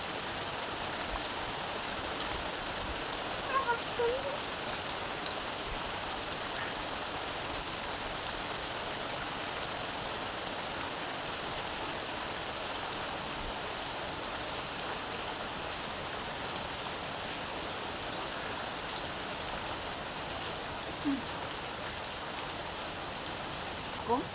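Steady rain pours down throughout, a dense continuous hiss of drops on a surface, fairly close and unbroken, with no talk over it.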